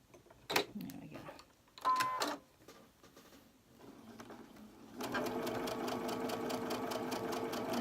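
A sewing machine stitches a quilt block for a barn block quilt, first in two short bursts, then a steady, loud run of rapid needle strokes, with light thread in the machine.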